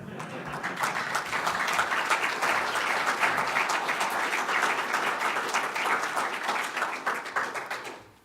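Audience applause at a DrupalCon Nashville 2018 conference talk, a steady dense patter of many hands clapping that holds for several seconds and then fades out quickly.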